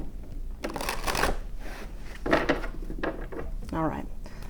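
A deck of tarot cards is shuffled up close in several quick riffling bursts with short pauses between them. Faint speech sounds in the background.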